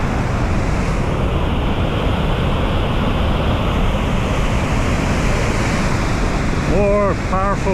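Nevada Fall in Yosemite, along the trail toward Half Dome, pours with a loud, continuous broadband roar of rushing water, close and steady, with brief sounds at the very end.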